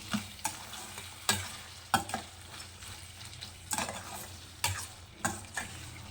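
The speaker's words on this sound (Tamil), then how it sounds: "இந்த மாதிரி கடாயில் சமைக்கும்போது கிண்டிக்கிட்டே இருங்க" Snail gravy stirred in a kadai, a ladle scraping the pan in irregular strokes every second or so over a low, steady frying sizzle, close and moderately loud with no talk.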